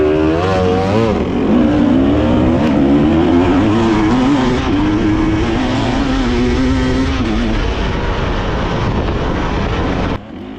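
Race car at Big Diamond track passing the scoring line at the end of lap 2, its loud engine revving steadily with rising and falling pitch, then cutting off abruptly near the end.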